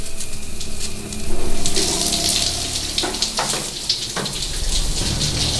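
Hot water runs steadily from a home shower, a continuous splashing hiss that swells briefly and carries on alone without talk.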